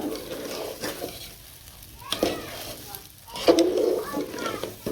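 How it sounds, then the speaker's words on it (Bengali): Pulao cooking in a pot in a village kitchen, with sizzling frying and intermittent scraping stirs at close range, some faint bird calls and background voices mixed in. "এখানে রান্না করতেছি পোলাও"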